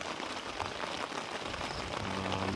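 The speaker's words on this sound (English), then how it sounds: "a rainy morning. I hope the rain will stop later" Morning rain falls on a farm during car camping, a dense, even patter on surfaces that stays steady and fairly close throughout, with no voices.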